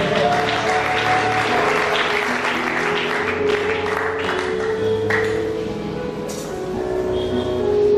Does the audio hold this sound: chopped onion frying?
no